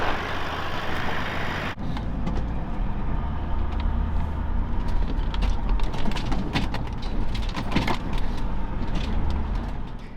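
An off-road vehicle drives a remote outback track in Australia, the Nyangumarta Highway, with a steady, close engine and road rumble, rattling and bumping noises throughout, and a sharp change in tone just under two seconds in.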